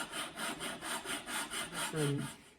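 A lapping bar with lapping compound is pushed back and forth by hand inside scope rings, making about nine even, rhythmic rasping strokes up close, with a brief voice-like tone near the end.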